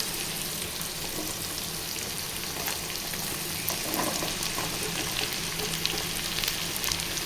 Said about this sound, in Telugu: ఇప్పుడు దొండకాయ ముక్కలు వేసేసుకోవాలండి.